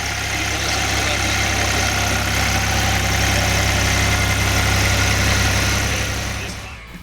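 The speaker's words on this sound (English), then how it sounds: "It was also a treat to see a Lamborghini tractor in motion" Lamborghini tractor engine running at a car show, a loud, steady low-pitched idle with constant vibration throughout, fading slightly at the very end.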